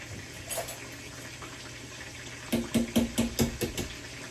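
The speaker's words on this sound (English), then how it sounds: "You have to drain it first." Water from a cooking pot pours and splashes into a sink in a quick series of uneven gushes, starting partway through after a quieter stretch.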